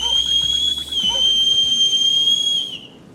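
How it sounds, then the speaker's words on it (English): A long, piercing high-pitched whistle holds steady for nearly three seconds, dips slightly in pitch partway through, then cuts off abruptly. "A piercing whistle echoed across the barnyard"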